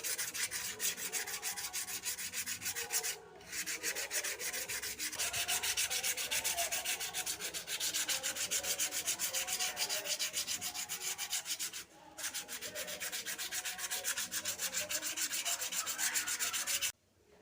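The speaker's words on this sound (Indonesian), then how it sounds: "Kemudian kita amplas manual menggunakan tangan." Rapid back-and-forth scratching of sandpaper rubbing a forged carbon part made from leftover Kevlar offcuts by hand, steady and close, with two brief pauses.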